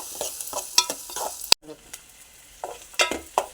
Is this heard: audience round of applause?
no